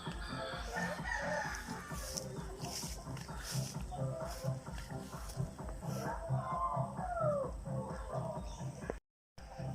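A backyard flock of chickens, pullets and hens, clucks and mutters steadily while a rooster crows at a moderate distance, the clucking low and continuous, with a brief dropout near the end.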